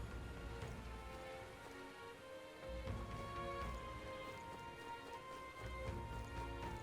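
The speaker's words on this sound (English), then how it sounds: "This bloody rain." Steady rain patters on surfaces throughout in the video game Metaphor: ReFantazio, a dense, even wash of drops with low rumbling underneath and no talk.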